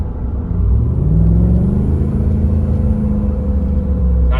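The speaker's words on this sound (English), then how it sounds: "I'm gonna just listen to the sound of the truck from my foot." A GMC Sierra or Chevy Silverado pickup engine revs up into a deep, loud rumble, holds steady, and settles back toward idle.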